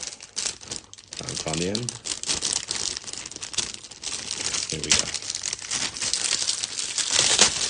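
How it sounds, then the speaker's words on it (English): Paper wrapping around plastic sprues from a Hong Kong Models 1/48 scale Avro Lancaster kit crinkles and rustles steadily up close, with brief talking over the rattling. "Apologies for the rattliness of the paper."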